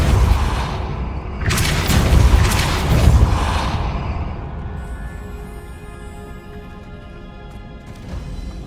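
The Depulso spell cast in Hogwarts Legacy on PS5 makes a forceful whooshing boom that surges for a couple of seconds, then fades into a quieter lingering tail with no speech.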